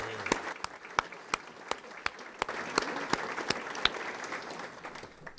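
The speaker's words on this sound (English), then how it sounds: "So everybody give ourselves a round of applause." Audience applause at a Chamber of Commerce mayors' breakfast, a soft, fairly distant patter of many hands with a few sharper individual claps standing out, steady for several seconds with no talk.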